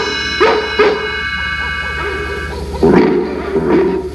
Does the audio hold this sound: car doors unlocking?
no